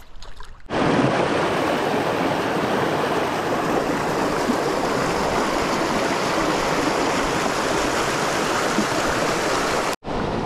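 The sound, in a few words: river rapids and waterfall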